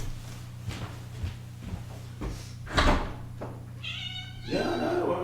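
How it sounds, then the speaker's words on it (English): A mother cat, a kitten's mother, meows several times indoors, with a couple of short calls followed by louder drawn-out meows near the end, amid faint household knocks. "That's Ghost, that's the kitten's mother now"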